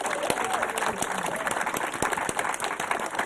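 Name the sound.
big round of applause for the filmmakers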